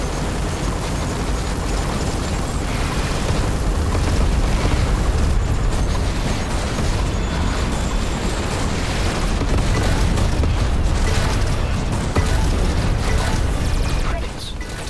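Thermal gun blasts in a video game, a dense, loud stretch of continuous booming explosions and rumbling debris with a voice talking over the barrage.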